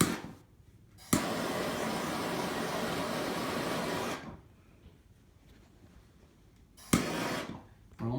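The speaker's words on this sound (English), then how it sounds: "using a acetylene torch" An acetylene torch heats rubber heat shrink on low-voltage kitchen light wiring, giving a steady close roaring hiss that runs for about three seconds, stops, then flares again briefly near the end.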